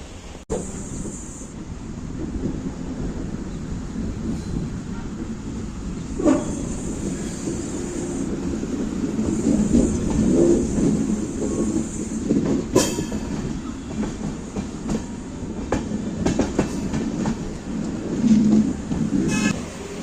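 An express passenger train in India rolls along steadily with a low rumble, faint rhythmic clacks and occasional sharp squeaks, heard from inside without talk.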